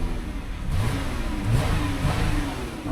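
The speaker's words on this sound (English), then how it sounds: "Let's just re-listen to this motor here." A 2015 Chrysler Town & Country minivan engine runs close by, a steady mid-pitched hum that swells into a couple of brief revs before settling back, with no voices.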